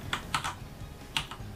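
Several crisp computer keyboard key presses, three quick taps in a row followed by one more after a short pause, close and clear over a quiet background.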